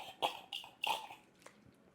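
Two sharp, close coughs in quick succession, followed by a softer throat-clearing catch, as water goes down the wrong way.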